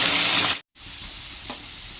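Pieces of small taro go into hot oil in a karai, giving a bright, hissing sizzle that cuts out briefly, then settles into a softer, steady frying crackle with one short spatter.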